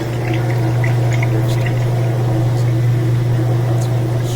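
A washing machine spins and drains with a steady loud hum, water rushing and splashing out the whole time, close up and with no voices.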